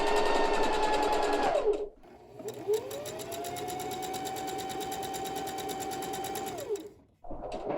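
A sewing machine stitches around the hem of a pair of wrap pants in two long continuous runs, steady and close, each winding down to a stop with a brief pause between.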